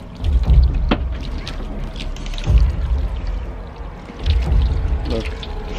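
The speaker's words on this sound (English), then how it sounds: "Thick stream of water." A heavy gush of water poured in bursts over a ceramic-coated car, three thick surges splashing against a hollow surface with steady wet noise between them.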